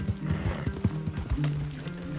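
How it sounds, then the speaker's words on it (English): Horses whinny and their hooves clip-clop in Red Dead Redemption 2, close and loud, with a sharp neigh breaking through the uneven hoof beats. "Leave the horses in the trees there."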